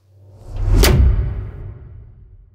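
An uncompressed cinematic whoosh hit builds up, strikes once with a sharp bright crack over a booming low end, then decays into a fading rumble, standing alone with no one talking.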